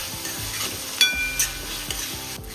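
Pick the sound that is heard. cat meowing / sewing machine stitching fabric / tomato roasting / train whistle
tomato roasting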